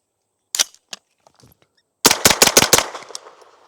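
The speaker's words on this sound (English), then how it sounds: "Here's 5 rounds of supersonic." A MAT9 roller-delayed pistol-caliber carbine fires supersonic rounds: a few separated sharp cracks, then a fast cluster of loud shots ringing out outdoors with a decaying echo.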